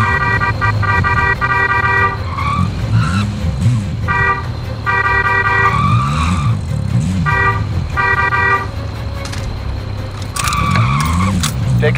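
Car driven hard in Call of Duty: Modern Warfare: loud engine revving with repeated tire skids and short horn toots in bursts, with some voices in the background.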